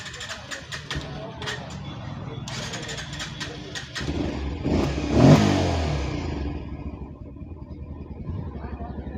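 A Bajaj BS6 motorcycle with a MAP and oxygen sensor fault cranks, starts and revs up once before settling into a steady idle, loud and close, with someone talking over it.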